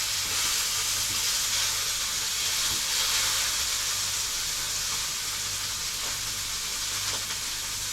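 Steak cooking in a hot pan, a loud, steady broadband sizzle and hiss that holds constant throughout, close and with no voices.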